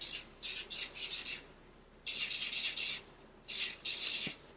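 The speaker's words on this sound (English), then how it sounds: "I'm just going to be spraying this on the length of my hair" Three short hissing sprays of heat protectant from a spray bottle onto hair, each lasting about a second, close up with quiet pauses between.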